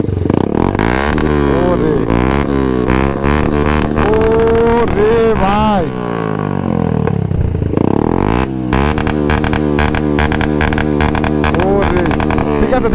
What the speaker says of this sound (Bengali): যে বাইক ওনার সে নিজে আমাদেরকে সাউন্ড শোনাবে